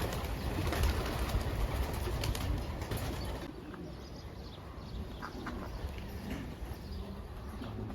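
A flock of champion racing homing pigeons is released outdoors, a dense flutter and rush of wings with soft cooing that thins into a quieter, steady background.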